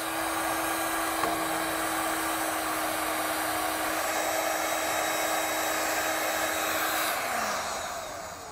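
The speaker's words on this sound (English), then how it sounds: "once you have them all crimped down, you can come back with a heat source and seal up the ends" A heat gun or similar hot-air heat source shrinks and seals butt connector wiring during a trailer brake controller install on a 2019 Kia. It gives a steady, close, loud blowing whir with a constant tone that runs throughout and tapers off at the end.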